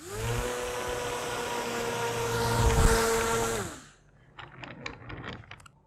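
Propeller fan motor pushing a self-propelled sail cart with an oversized sail, a steady loud buzzing whine that holds for several seconds, swells slightly, then cuts off, leaving scattered small clicks and knocks.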